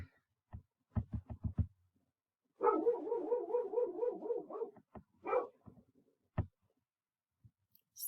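Small dogs bark indoors in a burst of sharp, quick yips, followed by a longer run of excited rapid barking and a few scattered single barks, close by and fairly loud in a quiet room.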